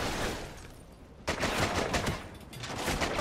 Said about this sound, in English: I'm using my pistol because I have no ammo